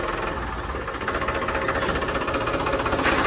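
A Farmtrac 60 tractor engine runs steadily during a test drive, a loud, continuous diesel chugging with a rapid knocking pulse that slightly rises in intensity, close by with no talking.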